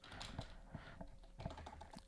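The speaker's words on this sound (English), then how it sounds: "I'll take this, highlight it, and I'll type in ease of use" Quiet computer keyboard typing close by, a quick irregular patter of soft key taps over a faint steady hum, no speech.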